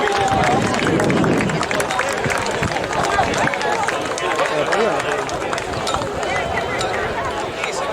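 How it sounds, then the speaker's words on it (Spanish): Dense, steady applause from an audience at a youth handball trophy ceremony in Baiona, continuous and fairly loud throughout with crowd murmur mixed in. "Fuerte aplauso."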